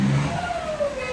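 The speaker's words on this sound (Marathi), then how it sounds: "BMWचा आवाज." A BMW car engine revs in one brief, loud burst, its pitch climbing quickly as it accelerates close by.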